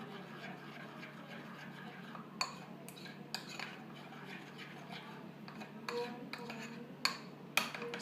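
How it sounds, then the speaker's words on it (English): A spoon spreads and mixes pizza pasta sauce into batter for a microwave pizza tart, giving soft scraping with scattered light clinks against the bowl, quiet and close. "Spread it well. You can mix it with the batter only."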